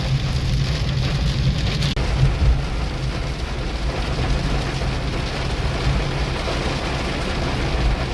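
Steady heavy rain pours continuously on Palm Beach, a dense broadband hiss with a low rumble underneath, close and loud throughout.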